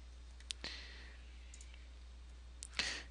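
Computer mouse clicks during software setup, a few sharp isolated clicks spaced apart over quiet background hum.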